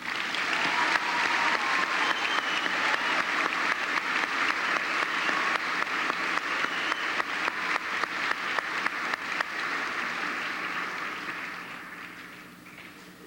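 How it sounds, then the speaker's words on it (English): A graduation ceremony audience applauds the full IB candidates, a long, even stretch of clapping that thins and fades toward the end. "your applause for these full IB candidates."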